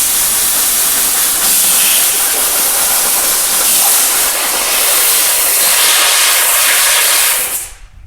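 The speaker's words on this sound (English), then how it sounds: "I like to use air to get all the flakes, so bear with us, it's going to be kind of loud for a second." Loud, steady blast of compressed air blowing rust flakes and loose paint off a car fender, a broad continuous hiss running for about seven seconds before cutting off abruptly.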